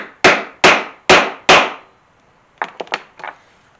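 Four loud, evenly spaced hammer blows set rivets into a leather rattlesnake holster on an anvil. A short pause follows, then a quicker cluster of lighter taps, all close up.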